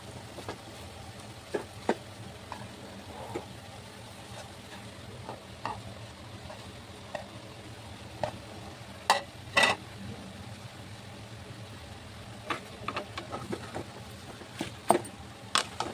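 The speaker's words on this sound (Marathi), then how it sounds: "ही आता अशी छान अशी परतून घ्यायची आहे।" Spiced potato sandwich masala sautéed in a pan, with soft, steady stirring and scraping and occasional sharp spoon clicks against the metal, heard fairly quietly and without any talking.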